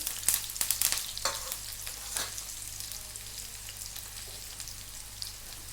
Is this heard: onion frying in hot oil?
yes